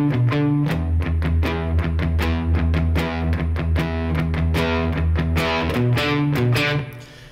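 Les Paul electric guitar chugging through a riff, with a crunchy distorted tone, low repeated palm-muted notes punctuated by sharp chord stabs in a steady driving rhythm, played alone.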